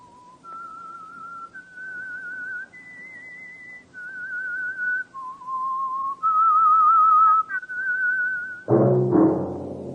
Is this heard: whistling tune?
yes